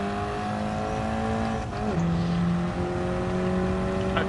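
Video game racing car engines from Dynamic GT League drone at steady high pitch, with a gear shift dropping the tone midway, close and continuous.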